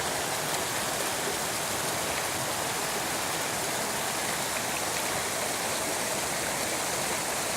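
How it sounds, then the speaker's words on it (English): Steady broadband rush of a clear, flowing stream beside a hiking trail in winter, continuous and fairly close, with no talk over it. "Oh, beautiful stream. Water is crystal clear."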